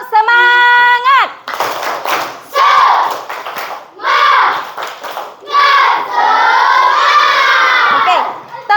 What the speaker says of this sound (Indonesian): Ibu ulang, tepuk semangat